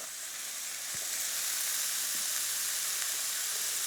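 Half an onion laid on a hot cooking surface gives a quiet, even hiss that swells slightly after the first second, then holds steady, with a couple of faint taps.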